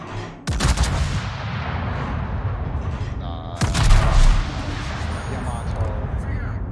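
Naval guns fire in a battleship game during an operation in Battleship Hannover. Two heavy booming blasts arrive a few seconds apart, each followed by a rumbling tail, while a voice talks underneath.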